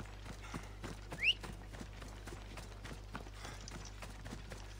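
Horse hooves clop in a quick, even rhythm over a low steady hum, with one brief higher squeak partway through, in the video game Assassin's Creed Odyssey.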